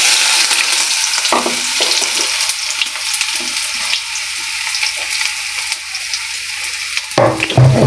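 Finely chopped onion dropped into hot oil sizzles loudly and close, a dense crackling hiss broken by a few stirring scrapes, then a brief knock and bursts of renewed spitting near the end, with no talking.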